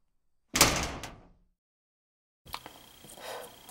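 A heavy security door in the Five Nights at Freddy's horror video game slams shut with a sharp metallic thud, followed after a pause by a softer mechanical sliding rumble and faint clanks, with no voices.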